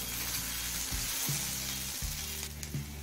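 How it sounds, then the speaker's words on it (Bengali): Taro stolons fry gently on a low flame with a soft, even sizzle and a low background hum, close and steady, broken by a couple of brief soft knocks. "এবার লতিটা আরও কিছুক্ষণ ভেজে নেব।"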